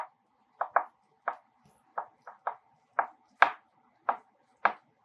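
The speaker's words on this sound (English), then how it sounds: "But I'm going to go ahead and cut this down through here." A knife cuts down through a rib roast, striking the cutting board in about eleven sharp, ringing knocks at an uneven pace, close and clear against silence.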